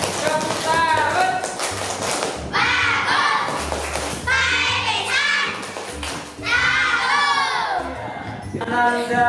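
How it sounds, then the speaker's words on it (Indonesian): Children in a primary-school religious education class clap and shout in several loud bursts, with chatter and thumps between rounds of applause. "Berikan tepuk tangan semuanya. Tepuk tangan."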